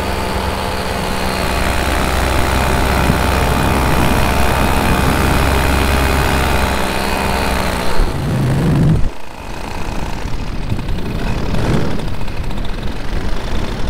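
Minari F1 light aircraft engine runs steady and droning at low power during a low flyby over an airfield, holding a constant hum before thinning out and shifting toward the end.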